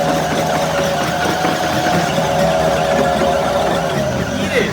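A motorbike engine idles steadily and loudly throughout, a constant mechanical drone with no pauses.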